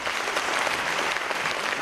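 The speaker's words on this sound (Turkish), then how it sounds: "Onun için Muhsin kardeşimizle alaylı bir alkışlaydı." An audience claps at a martyrs' night program after a poem recitation: dense, steady applause that fills the room without a break.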